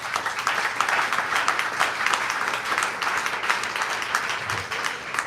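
Audience applause at a live Alberta independence rally, a dense sustained clapping from a large crowd holding steady for several seconds.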